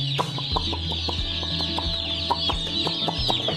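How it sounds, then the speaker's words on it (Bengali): Chickens cluck in a lively, busy mix with constant peeping and short repeated calls, overlapping and close by, while chicks run around a brooding pen. "সরাসরি আপনারা কীভাবে মুরগি বাচ্চা খুব সুন্দরভাবে খেলা করছে"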